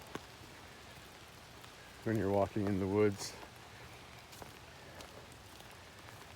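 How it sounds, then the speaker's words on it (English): Steady rain falls on a wooded trail on a damp day, a soft continuous patter filling the background throughout while a person briefly speaks over it midway. "It's raining today and I can't ride my bike, so I'm going for a little walk."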